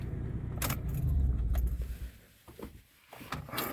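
A diesel Toyota FJ Cruiser idles with a low rumble that cuts off partway through as the engine is shut down, while keys jangle close by in several sharp bursts before and after.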